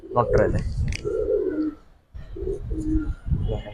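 Giribaz pigeons coo at a pigeon sale, soft repeated coos close by, mixed with someone talking over them.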